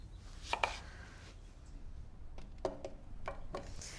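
A knife cuts a lemon in half and into big wedges on a board, with a few sharp chopping knocks in two brief clusters over a low room hum, close and fairly quiet.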